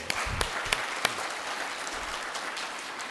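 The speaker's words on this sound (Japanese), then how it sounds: "今一度皆さん大きな拍手をしていただきま" A lecture hall audience gives a big round of applause after a 90-minute award commemorative lecture, a sustained dense wash of clapping with a few sharp, close claps standing out early on.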